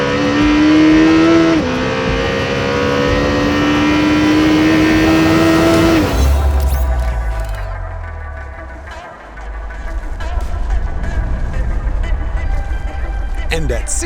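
A Lamborghini Temerario accelerating hard in a drag race against a Ferrari 296 and McLaren 765LT, engine screaming loud and close with a quick upshift, then dropping into a lower roar as someone talks over it.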